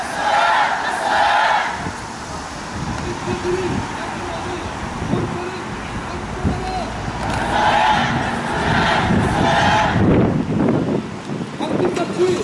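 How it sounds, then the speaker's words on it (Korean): Protest crowd at a rally outside a police station chanting slogans together in unison, loud repeated shouted bursts with wind buffeting the microphone between them. "다 같이 구호를 제창하겠습니다."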